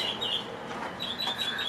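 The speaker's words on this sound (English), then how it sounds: "There's a bird that's really loud right now." A bird calls loudly near an indoor meditation space, a few high chirps standing out over a quiet room background.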